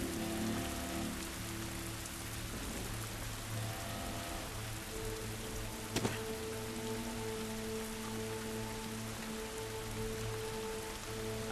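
Steady in-game rain falls in The Last of Us Part 2, a constant wash of drops on surfaces with a low hum underneath and one brief knock partway through, no voices over it.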